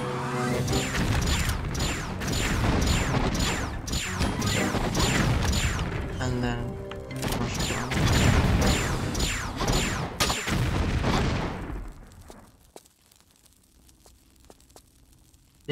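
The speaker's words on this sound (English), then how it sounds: "I'm gonna use here a super grenade." Repeated blasts and crashing impacts in Tomb Raider The Last Revelation as a super grenade is used, a rapid rhythmic series of loud explosive hits that stops abruptly into near silence.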